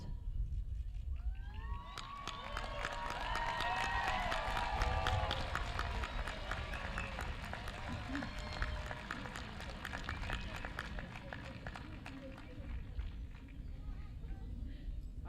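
A crowd applauds graduates at a high school graduation ceremony in a sustained wash of clapping, with cheers, whistles and sirens or horns rising over it early before the clapping carries on steadily.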